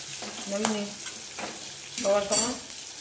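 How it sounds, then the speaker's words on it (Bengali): Bhola fish frying in hot oil, with a steady soft sizzle and bursts of spattering, close and moderately loud, no talk. "এবারে বন্ধুরা মাছগুলোকে ভালো করে আমি ভেজে নেব"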